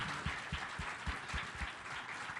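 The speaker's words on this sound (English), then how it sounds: "Will you just join me in a round of applause for our panelists?" A live audience at a health tribal summit gives a brief round of clapping for the panelists, a fairly faint, scattered patter of hands lasting a couple of seconds.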